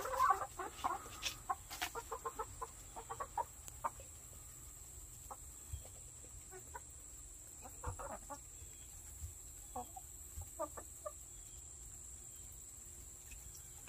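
Black onyx chickens give sparse, quiet clucks at irregular intervals over a faint steady hiss and insect-like background, with one brief murmur of voice.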